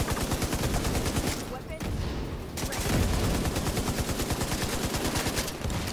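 Rapid, loud gunfire rattles almost continuously through a Division 2 raid battle, with dense bursts of shots, a brief lull near the middle, then sustained firing again.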